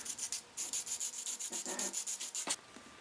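Hand sanding a painted wooden board with quick, even back-and-forth scratchy strokes, close and steady, with a brief knock near the end.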